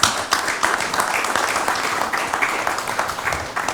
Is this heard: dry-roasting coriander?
no